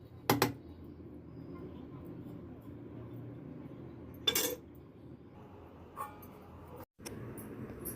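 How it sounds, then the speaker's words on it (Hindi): Dishes and utensils, including an iron kadhai, being washed in a home kitchen: sporadic clinks and clatters of metal rise over a steady low background, with a few sharper knocks spaced several seconds apart. "सब्ज़ी बनने के बाद में फिर मैं बर्तन भी धुले ले रही हूँ"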